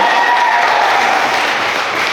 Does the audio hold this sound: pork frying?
no